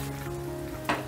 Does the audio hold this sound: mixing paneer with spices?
yes